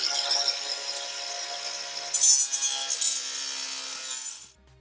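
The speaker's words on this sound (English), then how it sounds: "So we're gonna use this grinder. I recommend a metal cutting blade." An angle grinder fitted with a metal cutting blade cuts through toilet bolts. The close, steady, high-pitched grinding grows harsher partway through, then cuts off just before the end, with no talking.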